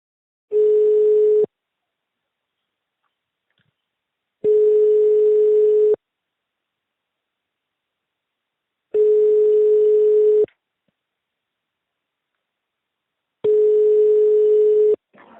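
A telephone line tone signalling the dialed number is unavailable: four long, steady beeps, each about a second, separated by gaps of silence, clear and alone.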